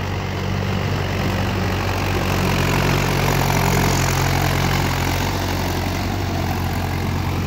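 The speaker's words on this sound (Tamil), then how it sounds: "இந்த தரிசை புறம் டிராக்டர் வச்சு எப்படி கேஜி வீல் மாட்டி அடிக்கிறாங்க பாருங்கள்." A tractor fitted with cage wheels works a fallow paddy field, its engine a steady, loud droning hum that runs unbroken and close by.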